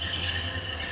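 Alaska passenger train rolling on its rails, a brief steady low rumble with faint wheel hiss, heard from on board at moderate level.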